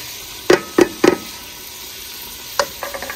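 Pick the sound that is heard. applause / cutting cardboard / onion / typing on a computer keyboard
onion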